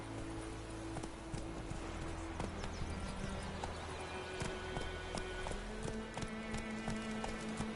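The horse Roach gallops in the video game The Witcher 3, a fast steady run of hoofbeats thudding over a continuous wind and ambient rumble, fairly loud and close throughout.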